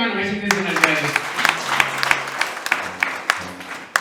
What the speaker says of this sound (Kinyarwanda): Dukomere Imana amashyi mu izina rya Yesu.